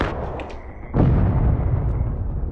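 Musket volley in the Civil War shooter War of Rights: a loud, near blast strikes at about one second, then rolls on as sustained rumbling gunfire, with no speech.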